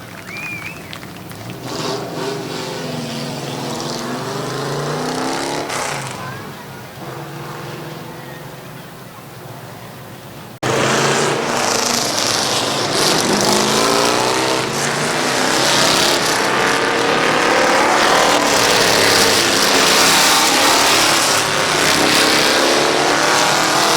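Race cars idle and rev as they pull to the starting line at Midvale Speedway, a continuous loud engine roar that swells sharply partway through and stays heavy, with a voice faintly underneath.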